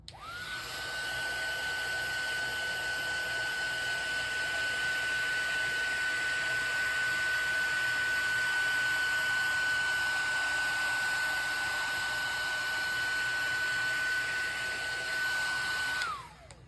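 A heat tool blows hot air over glossy paper in a continuous, hair-dryer-like whoosh with a steady high whine, starting and stopping cleanly and holding at an even volume the whole time.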